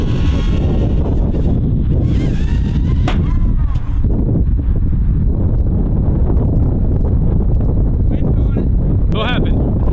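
Strong 20 mph wind roars and buffets the microphone over an outdoor concrete or blacktop parking lot during an Eachine Q90 Flying Frog quadcopter flight. The rumble is loud and constant, with people's voices breaking through intermittently.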